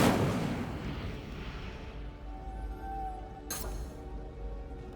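An Incendio fire spell cast in Hogwarts Legacy, heard as a loud whooshing burst of flame at the start that fades into a rumbling tail, followed by a second sharp crackling burst, with no talking.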